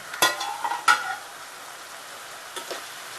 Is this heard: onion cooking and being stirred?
yes